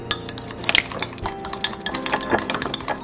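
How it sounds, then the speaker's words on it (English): A spatula scrapes cake batter from a mixing bowl at close range, giving quick uneven clinks and scrapes of utensil against the bowl. "I like to scrape the bowl."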